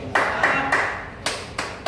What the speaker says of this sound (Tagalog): Palakpak mo, oy